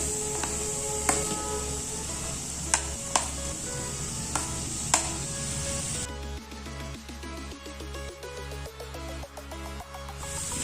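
Potatoes frying in a pan with ground spices for a palak paneer dish, a steady close sizzle with stirring scrapes and a few sharp clanks in the first half, then a busier crackling texture with no talk.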